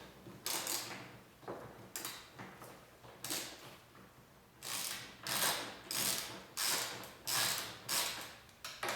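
Ratchet clicking away at the three side mirror bolts on a 2004 Mazda 6, loud and close, in repeated bursts that grow steadier and more regular toward the end, with no talk.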